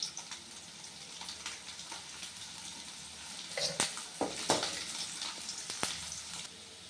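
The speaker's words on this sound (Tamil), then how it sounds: "பூண்டு நல்லா பொன்னிறமாக வந்துருச்சு. நல்லா பொன்னிறமாக வதக்கி எடுத்தாச்சு" Garlic fries in oil until golden, giving a quiet, steady sizzle with scattered crackles and a few louder pops and scrapes of stirring partway through, and no voices.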